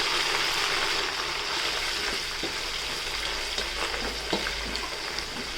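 Handfuls of mint and coriander leaves fry in a pot for mutton biryani, a dense continuous sizzle close by, with occasional stirring clicks and scrapes.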